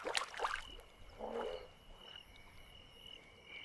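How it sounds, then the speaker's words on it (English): Frogs call in a swamp at night, a few sharp croaks and chirps up close at first, then a softer croak over a steady high insect drone. "The sound of frogs attracts other predators, including water snakes."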